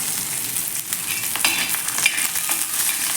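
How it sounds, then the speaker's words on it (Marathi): Garlic cloves and green chillies frying in hot oil for a raw tomato thecha, giving a close, continuous sizzle with scraping stir strokes throughout. "या पण मिनिटभर असा व्यवस्थित तेलावरती परतून घ्यायचा आहे"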